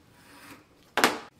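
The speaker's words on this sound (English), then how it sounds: "cut it right in the middle, tape down the middle, and you could make little pieces like an inch long" A single short, close rasping snip or rip cuts a strip of tape into a small piece, preceded by a faint rustle of handling.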